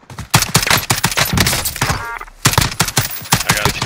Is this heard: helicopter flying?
no